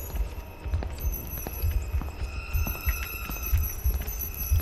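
A pig runs around in the horror game Dreadout, its quick, light hoofed footsteps tapping in uneven clusters against a faint background drone, with no talk.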